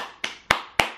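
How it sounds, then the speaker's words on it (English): Three sharp, close hand claps ring out alone in quick, evenly spaced succession, each decaying fast, from a single person during a movie trailer reaction. "Round of applause for that."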